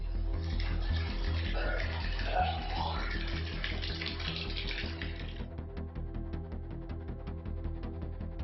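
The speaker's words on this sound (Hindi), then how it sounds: "कुल मिलाकर जूनागढ़ में पिछले 24 घंटे में रुक रुक कर बारिश हो रही है" Steady rain pours and splashes in Junagadh, a dense hiss of falling water that gives way to sparse, separate drips and ticks toward the end, with no voices.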